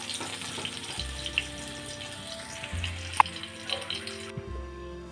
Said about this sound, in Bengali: ভেন্ডিগুলো বেশ লাল লাল করে ফ্রাই করে নিতে হবে